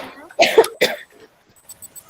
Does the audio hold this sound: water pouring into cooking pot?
no